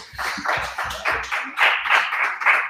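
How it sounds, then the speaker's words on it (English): A basketball gym crowd claps for a coach in a ceremony on a special broadcast, with rhythmic bursts of clapping, several strong hits in a row, close and fairly loud. "everybody give her a round of applause too"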